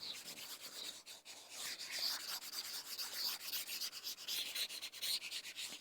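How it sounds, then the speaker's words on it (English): Eraser rubbed across writing during a celestial navigation lesson, a continuous dry scrubbing rasp in rapid back-and-forth strokes, close and steady for several seconds with no talking. "let me erase unnecessary"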